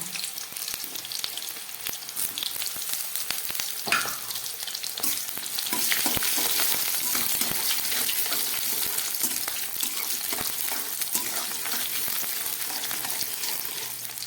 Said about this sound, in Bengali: এই তেলের মধ্যে আমি পটলটা একটু ভেজে নেব।